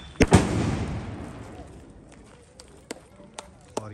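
Diwali firecrackers set off outdoors: two loud close bangs open, followed by a decaying rumble and several sharper, fainter pops and cracks scattered over the following seconds.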